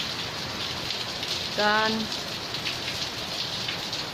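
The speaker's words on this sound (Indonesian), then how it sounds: "Jadi ya sekarang masih hujan" Steady rain falling during a flood in Coraki, a constant close hiss of drops on surfaces, with a brief voice speaking briefly partway through.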